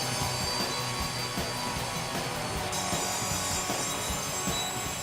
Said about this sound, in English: the thicker blade on Brendan's chainsaw is jamming up in the concrete, putting stress on the supercharged motor